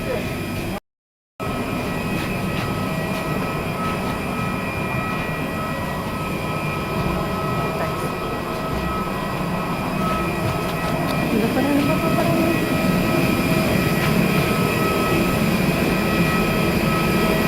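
Steady broadband drone of an Air Asia airliner's engines and cabin, a constant roar with low rumble that swells slightly near the end, with a brief dropout early on and faint voices underneath.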